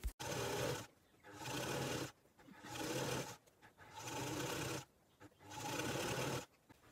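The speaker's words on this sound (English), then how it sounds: "I'm going to run a row of stitching along that pinned up edge." A sewing machine stitches a row along a pinned fabric edge in five bursts of rapid whirring, each about a second long, separated by short pauses. It sounds close and fairly quiet, with no talk.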